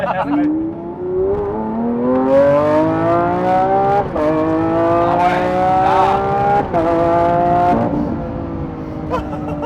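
A Lamborghini Aventador tuned to 850 hp revs up and down repeatedly with rising and falling pitch and crackling exhaust pops with flames, while people talk over it.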